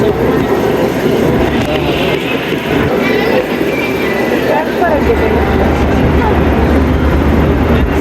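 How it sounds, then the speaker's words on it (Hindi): Rehman Baba Express train pulling out of Jahangira Road station, a loud, steady low rumble and rolling clatter from on board, with a voice talking over it. "चलें जी, मूव हो रही है हमारी train Jahangira road railway station से।"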